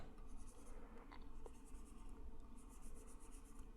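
A stylus rubs and scratches across a drawing tablet in short segmented strokes while sketching a figure's hands in Corel Painter, soft and close over a low background rumble.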